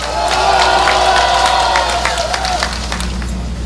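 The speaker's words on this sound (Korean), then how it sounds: "여러분 다시 한번 감사의 박수를 보내주시기 바랍니다" Crowd applause with scattered cheers and whoops at an outdoor protest rally of small shop owners and self-employed merchants, clapping mixed with voices and shouts, fading slightly toward the end.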